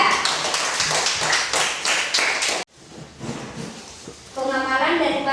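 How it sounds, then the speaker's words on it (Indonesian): Classroom applause for a student group: dense, steady clapping by many hands for about two and a half seconds, then it stops abruptly. Quieter room noise follows, and a voice speaks near the end. "Tepuk tangan untuk kelompok 3"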